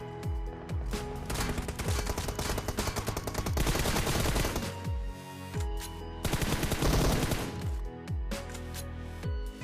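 Gunfire in the mobile battle royale game PUBG Mobile, aimed at vehicle tires, with loud rapid automatic bursts and single shots repeating densely over a low rumbling backdrop, with no talking.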